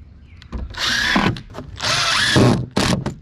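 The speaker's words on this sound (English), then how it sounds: "I'll put a screw in every one of these boards" A power drill whirs in repeated bursts as screws drive into wooden fence boards, rising in pitch as each screw bites, close and loud with short pauses between runs.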